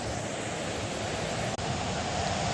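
A waterfall roars in steady rain, a dense unbroken wash of falling water with a single brief dropout midway.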